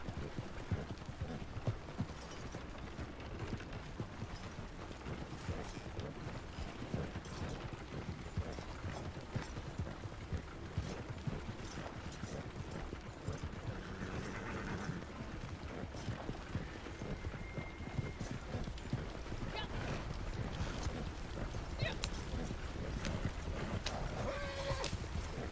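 A horse galloping steadily while hauling a cart in the video game Red Dead Redemption 2 Online, hooves clip-clopping in a continuous rhythm with occasional whinnies and creaking cart mechanisms, loud and close throughout.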